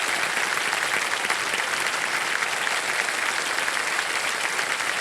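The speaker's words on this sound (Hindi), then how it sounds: "तालियां बजती रहे इनके लिए" Steady applause from a large TV game show studio audience fills the whole stretch, dense and even, with clapping sustained at a constant level.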